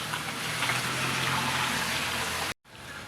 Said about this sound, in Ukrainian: Бачите, хмарно, йде дощ